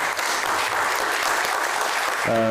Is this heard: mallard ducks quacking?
no